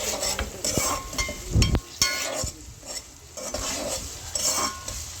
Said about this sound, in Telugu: tomatoes టమాటాలు కూడా వేసుకొని చేద్దాం ఫ్రై